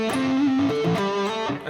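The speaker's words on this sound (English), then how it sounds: "If you play a lick that sounds something like this" A distorted electric guitar plays a quick vertical pentatonic lick, short bent and sliding single notes in a tight, close phrase with no talking.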